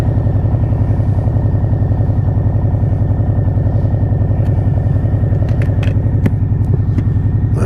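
A 2020 Harley-Davidson Fat Boy with Heinz pipes and Shorty Vents rumbles loudly and close while riding, a deep, pulsing V-twin exhaust throb continuing steadily throughout, with a few faint clicks on top.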